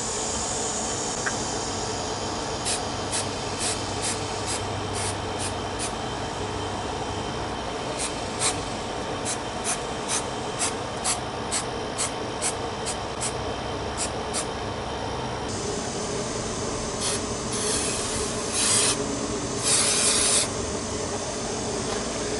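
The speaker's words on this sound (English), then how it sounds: "Now we have to spray this on both parts." A steady aerosol spray of contact cement hisses continuously, broken by short repeated spritzes and a few louder bursts near the end, close by.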